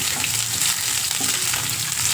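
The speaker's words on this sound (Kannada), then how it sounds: "ಇದು ಪಲ್ಯ ಥರ ಒಗ್ಗರಣೆಗೆ ಹಾಕ್ತಾಯಿದ್ದೀನಿ ಇವತ್ತು ನುಗ್ಗೆಕಾಯಿನ" Cooked drumstick pieces sizzle and crackle in a hot tempering in a pan, a dense continuous frying hiss heard up close with no pauses.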